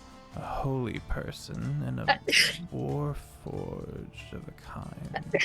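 One sharp sneeze bursts out in the middle of steady conversation among several people during a game session. It is close and clearly louder than the voices around it.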